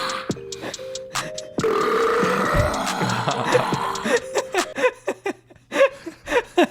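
A man burps loudly and at length, a drawn-out, rumbling belch up close, followed by scattered chuckles and laughter from others nearby.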